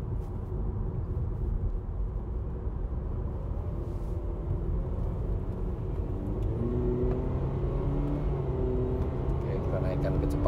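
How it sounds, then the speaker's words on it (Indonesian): A 2022 Mitsubishi Xpander cruises on a highway at a steady 100 km/h, heard from inside the cabin as a continuous low road and engine drone with tyre rumble, and a voice faintly mixed in toward the end. "kita melewati tikungan high speed dulu dan kita akan melaju dengan 100 km per jam"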